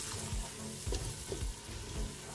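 Dry spices stirred in a pot for seafood boil sauce, with a steady rough scraping and several low, soft thumps as the spoon strokes the pot, close and continuous, with no talking.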